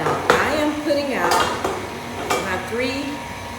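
Three metal cake pans are set down on a counter one after another, giving clanking, ringing knocks with a faint voice underneath.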